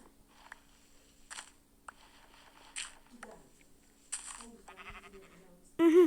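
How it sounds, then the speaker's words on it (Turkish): A sheep in the Minecraft video game bleats near the end, a short loud wavering call, after scattered clicks and blocky game sounds. "koyun geldi."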